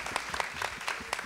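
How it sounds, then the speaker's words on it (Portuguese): Brief applause from an audience at a live show, a few scattered claps heard faintly and distantly over a quiet room. "Salva de palmas pro Gustavo."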